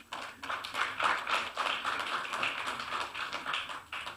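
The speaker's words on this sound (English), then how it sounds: "A round of applause for her." Conference audience giving a round of applause, light scattered clapping in a hall, fairly faint and sparse, a small crowd clapping for several seconds.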